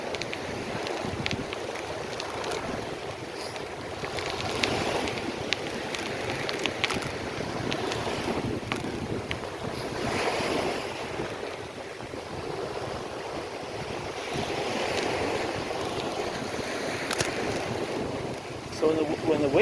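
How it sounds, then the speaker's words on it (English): Waves break and wash onto Fort Myers Beach under gusty wind buffeting the microphone, a continuous surging roar with swells rising and falling, while a voice talks at times. "It's allowing big waves to come in."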